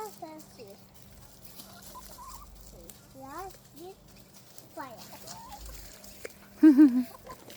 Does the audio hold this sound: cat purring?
no